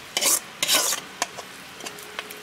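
Ingredients for village-style mutton curry being sautéed in a pan, with loud scraping stirs in short bursts over a faint sizzle, close by with no talk.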